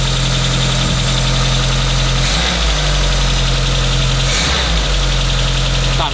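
A 1986 Mark II Volkswagen Scirocco engine idling as it warms up and comes off choke, a loud, close, steady rumble with a faint rhythmic knock and two brief surges in speed.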